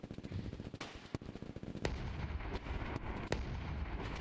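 In VRChat, mech weapons fire as heavy, booming bursts of automatic gunfire mixed with sharp, loud cracks, filling a few seconds of continuous combat noise.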